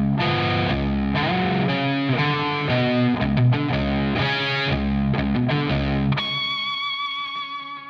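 Distorted electric guitar slowly playing a riff, with thick chorded notes and effects-laden tone ringing out one after another, ending on a sustained, shimmering chord; loud and close with no talking.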